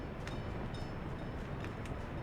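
Steady rumbling of a train rolling along in the city-building game Workers & Resources: Soviet Republic, a continuous low wash of wheel and carriage noise with faint higher clanks, no talk.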